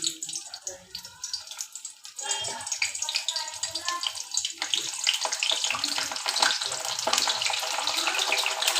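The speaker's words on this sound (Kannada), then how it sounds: "ಈಗ ಫ್ರೈ ಮಾಡ್ತೇನೆ ನೋಡಿರಿ." Cut, seeded bitter gourd pieces frying in hot oil, a dense continuous sizzle that builds and grows louder after a quieter start, with occasional crackles.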